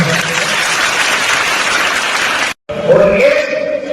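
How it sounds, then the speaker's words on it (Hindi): An audience claps steadily to welcome a guest at a public event, a dense, loud wash of applause that cuts out briefly and then resumes under a speaking voice. "तो हम एक बार जोरदार ताली से स्वागत करेंगे"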